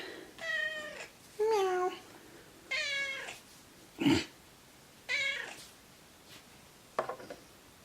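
A cat meows repeatedly, about five separate meows spaced a second or so apart, clear and close, with a brief knock in between.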